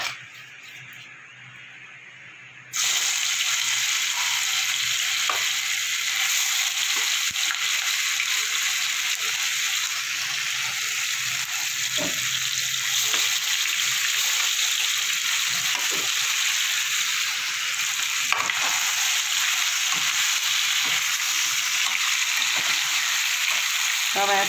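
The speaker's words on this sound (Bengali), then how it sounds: "তেলটা দিয়ে গরম করতে বসিয়ে দিয়েছি। পনিরটা আমি ভেজে নেব।" Paneer frying in hot oil, a loud steady sizzle that bursts in after a short quieter start and continues unbroken, with occasional faint spatula scrapes underneath.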